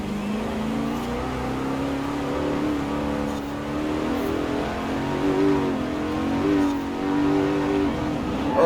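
The hybrid powertrain of a Koenigsegg Regera in Forza Horizon 4 revs and pulls hard under light throttle, a loud, sustained engine drone that rises and falls in pitch as the car accelerates and shifts.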